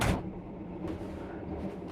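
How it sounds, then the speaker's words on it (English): A sliding door on a Sunrise Seto sleeper train compartment is pulled shut with a short thud and a rolling slide, heard close and alone. "Let me close the door so it's darker."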